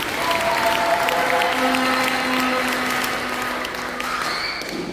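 Audience applause at a church launch event, steady dense clapping from a crowd filling the whole span, with a little voice mixed under it.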